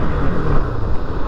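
A Bajaj Pulsar 200 with dual-channel ABS under a braking test, heard as steady, loud, rumbling road and wind roar throughout, with no voices.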